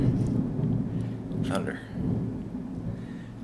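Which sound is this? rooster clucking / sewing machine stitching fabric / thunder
thunder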